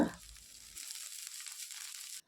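Chopped green beans and small shallots go into a hot pan with a soft thud, and a bright, even sizzle starts and runs steadily for over a second before cutting off sharply.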